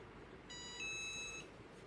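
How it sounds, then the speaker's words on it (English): An electronic beep from a heat press signalling it has come back up to 350 degrees during T-shirt printing, a single steady tone lasting about a second over faint room noise. "that was the beep because it finally reached the 350 degrees again"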